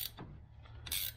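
A ratchet tightening a wheel stud, a few close, quiet clicking strokes at the start and end of a short burst.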